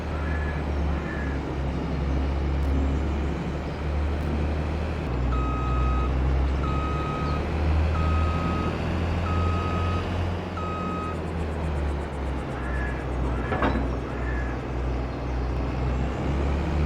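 A reversing truck in a farm-survival video game sounds a regular series of evenly spaced electronic beeps over a constant low engine rumble, with no talk.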